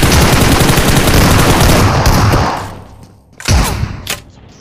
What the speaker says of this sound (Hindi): कभी सर में दे के मारता हूँ गोली उसकी।